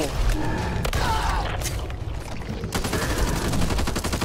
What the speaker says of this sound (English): I'm shooting the squishy thing on his arm.